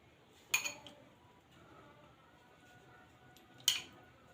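A knife cutting through frozen mango, two sharp, crisp cracking clicks about three seconds apart, each with a short scraping tail, against a quiet background.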